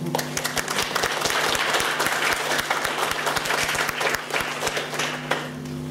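An audience at a conference breaks into sustained applause, dense clapping from many hands filling the room at a steady level, with faint voices underneath.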